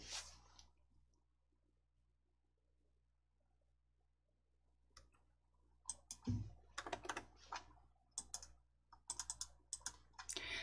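Computer keyboard keys click in quick, close bursts after a quiet stretch, with light, uneven taps clustering toward the end.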